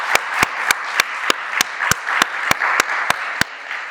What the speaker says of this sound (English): how about one more round of applause for our honorees today?